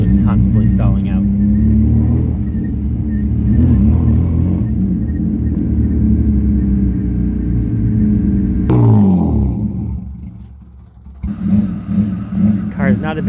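A BMW E36 with a five-speed manual idles roughly up close with a steady low rumble, then sags as if about to stall before catching and running again.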